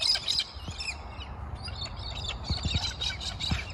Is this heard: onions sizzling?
no